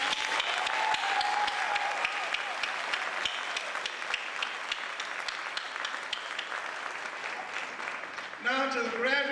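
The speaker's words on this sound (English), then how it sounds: "please join me in applauding the graduates" A graduation ceremony audience gives the graduating class a sustained round of applause, dense steady clapping filling the hall, with a voice briefly speaking over it near the end.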